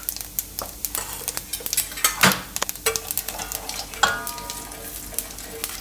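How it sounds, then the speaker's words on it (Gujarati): Cumin seeds and asafoetida crackle and sizzle in hot oil for a Gujarati potato and pea paratha filling, a steady close frying hiss with scattered pops and a few clinks of a utensil against the pan, no talking. "તો તેલ આપણું ગરમ થઈ ગયું છે. એમાં આપણે થોડુંક જીરું નાખીશું આ રીતે આખું."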